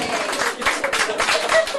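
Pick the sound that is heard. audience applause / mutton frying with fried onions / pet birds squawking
audience applause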